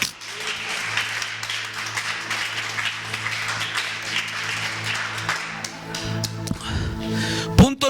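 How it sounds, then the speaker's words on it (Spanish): A church congregation claps along during a Spanish-language sermon: dense, steady clapping runs throughout over sustained background music, growing busier near the end. "dele palmas a Jesús"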